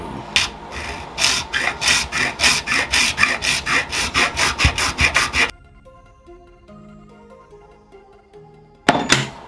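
Rapid rhythmic rasping strokes of a blade carving a wooden arrowhead point, about a dozen in quick succession, then a quiet pause and a final scrape.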